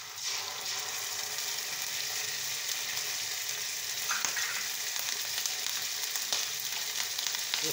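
Ginger garlic paste fries with golden brown onions in a hot pan, giving a steady, loud sizzle throughout with occasional stirring scrapes and no voices.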